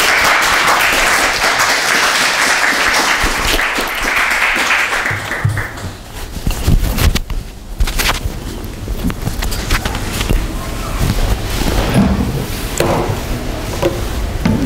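Applause from an audience welcoming a professor to the stage at a Korean church gathering, broad and steady through the opening seconds, then thinning into scattered claps, shuffling and movement noise.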